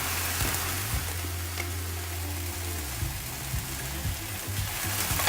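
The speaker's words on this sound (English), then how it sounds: "I love the sound of when the meat is frying." Steady crackling sizzle of meat frying in a hot pan, continuous and fairly loud, with occasional low clunks and no talking.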